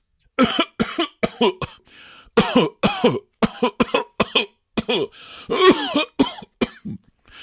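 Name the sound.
imitated coughing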